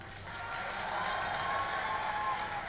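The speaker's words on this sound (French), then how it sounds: "Mesdames, messieurs, applaudissez Mélissa." Audience at a SoulCalibur fighting-game tournament event applauding as a contestant is introduced, a soft, steady wash of clapping that swells slightly and holds, heard at a distance.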